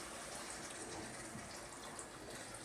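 Water being poured into a pot of pav bhaji vegetables on the stove, a steady broad splashing gush that runs without a break, close and fairly loud, with no talking.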